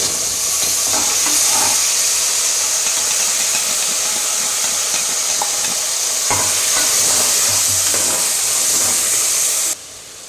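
Tomato, ginger and garlic paste fries in oil, a loud continuous hiss and sizzle close by, with occasional stirring knocks and bubbling, steady throughout before dropping slightly at the very end; no voices.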